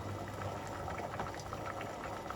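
Glutinous rice balls boiling in longan soup over high heat, a soft, steady bubbling and simmer heard close and quiet, continuous without interruption.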